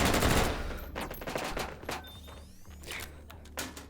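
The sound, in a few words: Meatmas gun firing in a video game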